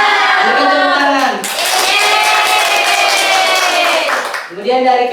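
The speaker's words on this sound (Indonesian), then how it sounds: "Berikan tepuk tangan." Classroom students clapping for a group's work, a burst of applause lasting a few seconds, framed by talking before and after.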